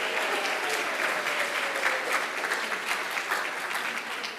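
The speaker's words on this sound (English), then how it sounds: "So let's give another round of applause to all of our fantastic companies here in the Granite State." An audience at an awards ceremony applauds steadily, a dense sustained clatter of many hands clapping at even loudness throughout.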